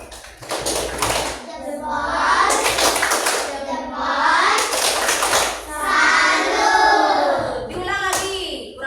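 A class of children does a rhythmic group clap in a classroom, several bursts of patterned claps with children chanting along, fairly close and loud.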